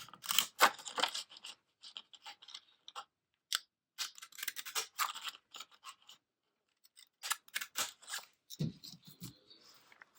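Repeated crisp snips of scissors cutting paper, in irregular bursts separated by short pauses, close and fairly loud.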